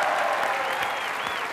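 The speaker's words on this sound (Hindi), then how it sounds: "उनके लिए जोरदार तालियां" Studio audience clapping on a comedy talk show for a birthday cheer, a dense, steady wash of applause filling the whole stretch without voices.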